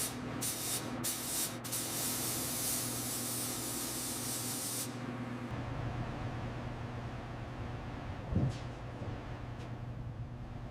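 A spray gun lays a final clear coat onto a 1930 Ford Model A in a workshop: a steady loud hiss of atomized spray for about five seconds with short bursts, then fading to quieter room noise and a faint knock.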